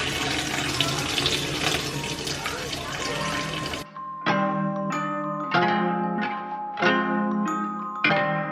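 Rinse water is poured off washed rice in a home kitchen while making green rice, a steady running pour for about four seconds that then gives way to a few separate clattering knocks.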